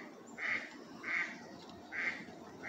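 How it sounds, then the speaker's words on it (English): Ducks quack outdoors in spring, three or four evenly spaced calls of moderate loudness against steady background noise, with no talking. "Hear the ducks?"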